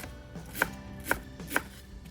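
Fresh garlic chives are cut into short lengths on a board, with three crisp, evenly spaced knife chops landing about half a second apart against a quiet background.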